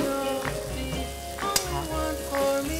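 Pieces of pork fry in a hot pan with a steady, soft sizzle and crackle, a few sharper pops and the light clink of a utensil, heard close and alone.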